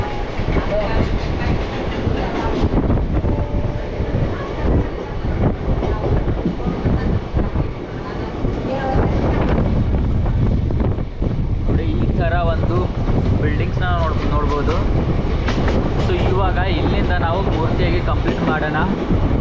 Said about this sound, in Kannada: ಈ ರೀತಿ ಲೋಕಲ್ ಟ್ರೈನ್